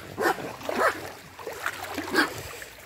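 Dogs playing in a bathtub in a home bathroom, a few quick yips and barks spaced about half a second apart, quiet and a little echoey.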